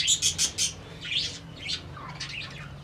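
Three pigeons near a loft call with a quick run of four bright chirps, then scattered softer tweets and calls over a low background hum.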